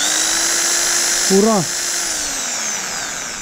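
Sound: electric drill powered by home solar inverter

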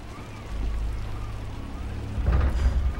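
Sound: rain falling

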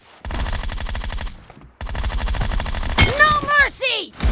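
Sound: gunfire in a video game

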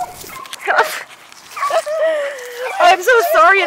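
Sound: pocket beagle dogs yipping while playing

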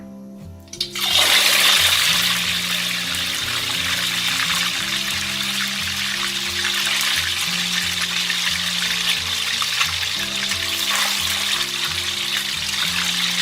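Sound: tofu frying in hot oil

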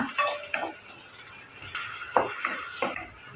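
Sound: sautéing curry leaves in pan

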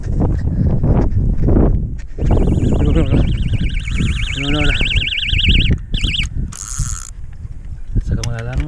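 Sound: fishing bite alarm going off

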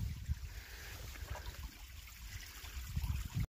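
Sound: small stream of water trickling in creek washout

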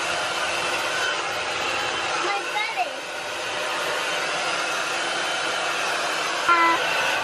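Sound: hair dryer blowing

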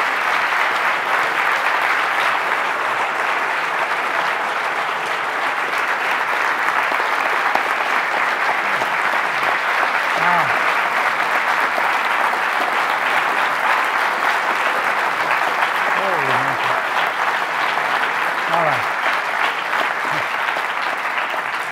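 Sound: audience applause at a lecture

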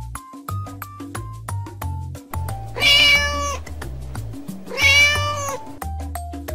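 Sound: cat meowing

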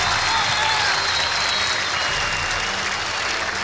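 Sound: audience applause for two comedians

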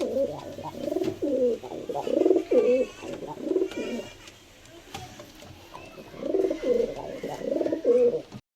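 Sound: pigeon cooing

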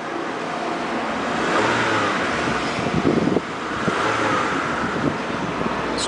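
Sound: 2000 Honda Civic EX four-cylinder V-TEC engine running

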